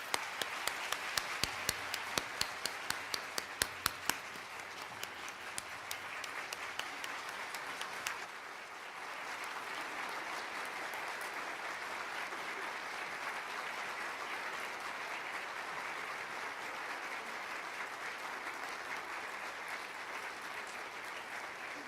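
An audience at an award ceremony applauds the award winners: a few sharp separate claps at first, then dense, steady clapping that carries on for about twenty seconds at an even level, with no one speaking.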